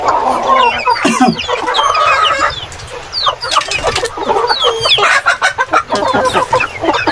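Rhode Island Red chickens cluck and chatter on a rainy farm, close and loud, with overlapping squawks and short clucks in an irregular, busy flurry.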